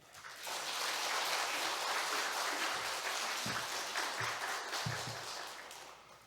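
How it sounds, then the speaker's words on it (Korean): Warm audience applause at a Korean church service welcomes a missionary speaker to the stage, swelling quickly and holding as a dense, fairly distant clatter of clapping that tapers off at the end. "나오실 때 한번 큰 박수로 우리 환영하고 축복해 주시면 좋겠습니다"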